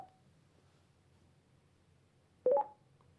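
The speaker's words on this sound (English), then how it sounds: "To start an intercom conversation, simply press the intercom button quickly." A brief electronic beep tone chirps from a FREECOM 2 headset as the intercom button is pressed, a single short tone in an otherwise quiet moment.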